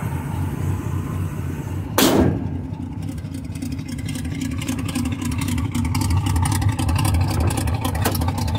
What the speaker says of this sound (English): the car runs really nice now